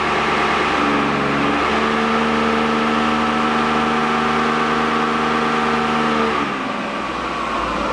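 A supercharged Toyota Hilux engine runs on a dyno, holding a loud, steady revving drone near 3,000 rpm before the pitch drops as it eases off toward the end.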